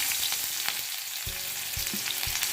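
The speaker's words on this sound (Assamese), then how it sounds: "এতিয়া তেলখিনি গৰম হোৱাৰ পিছত মই ইয়াতে পিঁয়াজখিনি দি দিম।" Chopped onions hit hot oil in a pan for a red amaranth and jackfruit seed curry, setting off a steady close crackling sizzle with a few soft utensil knocks and stirs, no voices.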